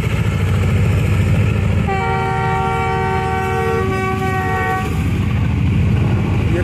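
A train pulls a load of coal past a village near Sahiwal, Pakistan, rumbling loudly and steadily close by, with a long sustained multi-tone horn blast in the middle.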